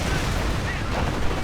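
Grenade explosions and gunfire in a World War II real-time strategy game battle around St. Lo, a dense, continuous roar of blasts and shots with a voice partly mixed in.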